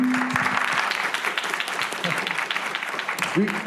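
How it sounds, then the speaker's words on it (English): An audience at a livestreamed candidate forum in Nampa, Idaho applauds as two moderators are welcomed; sustained clapping runs throughout with voices talking over it. "We got an applause, Teddy"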